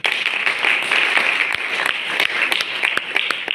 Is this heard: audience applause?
yes